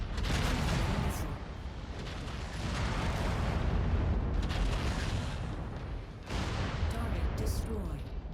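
Incoming missiles explode in Merc Life mech combat, a dense roaring barrage of booms and blasts with fresh bursts near the end, loud and close throughout.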